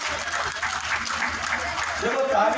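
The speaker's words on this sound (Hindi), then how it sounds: "एक बार जोरदार ताली बजाकर हमें माननीय मुख्यमंत्री जी का अभिनंदन करना चाहिए सब लोगों को।" A crowd at a political gathering marking a government's first year claps for the chief minister, a sustained loud roll of hands that swells slightly toward the end, with some voices mixed in.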